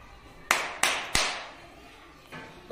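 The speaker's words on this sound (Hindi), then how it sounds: "ताली की आवाज थी।" Three sharp hand claps in quick succession, close and clear, followed by a pause and a softer fourth clap.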